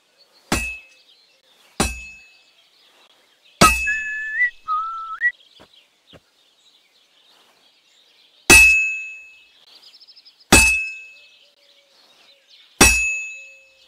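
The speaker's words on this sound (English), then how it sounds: "Now take the hammer and try hitting it a few times." Sharp metallic clangs of a hammer striking a sword on an anvil at a forge in Kingdom Come: Deliverance II on PS5, six loud ringing blows spaced irregularly, with a brief whistling tone between them and no talk.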